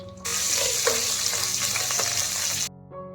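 Cinnamon and cumin crackling in hot coconut oil in a cooking pot, a bright, loud sizzle that starts abruptly, runs steadily with a few stirring knocks, then cuts off, leaving quiet.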